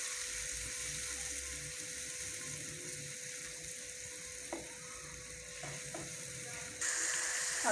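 Spice mix and yogurt stirred and frying in hot oil for Kashmiri dum aloo, a steady close sizzle with a few soft utensil knocks, growing louder toward the end, no talk.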